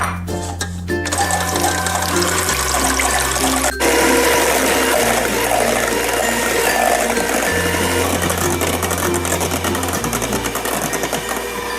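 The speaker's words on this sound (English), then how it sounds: "you're gonna get a small bowl and you're gonna beat the egg whites until it's silky" An electric hand mixer beats egg whites in a small bowl for a Brazilian guava roll cake, a loud steady whirring drone that shifts pitch as the speed changes, running alone with no talking.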